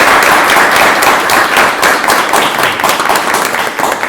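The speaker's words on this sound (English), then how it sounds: "a round of applause for Ms." Loud, dense applause from those attending a Board of Education meeting, many people clapping steadily and close by for the full stretch without letup.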